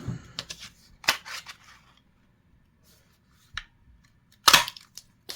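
Scissors cutting two hearts out of petal pink paper for a Valentine bee craft, a few crisp snips in short bursts with quiet gaps between, close and clear with no talking.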